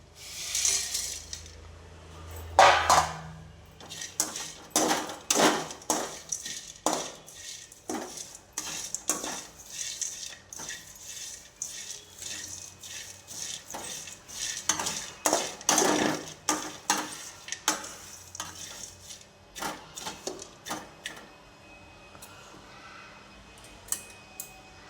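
Coriander seeds, cloves, cardamom, cinnamon bark and stone flower are dry-roasted in a pan with repeated dry rattling scrapes and clinks as the spices are stirred, loud and close with no talk.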